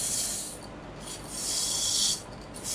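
Sandpaper, 120 grit wrapped around a Scotch-Brite pad, rubs inside a wooden goblet turning on a lathe, a steady close rasping hiss that swells in longer strokes with brief pauses between them.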